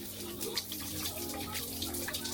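Shower water running steadily, a broad hissing spray with some splashing and dripping, heard close and continuous through the whole stretch.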